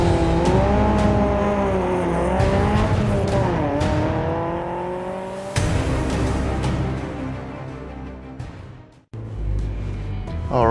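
A Mazda MX-5 sports car drives a road through Royal National Park near Sydney, its engine droning close and steady with rising and falling revs as it accelerates and shifts, and a brief dropout near the end.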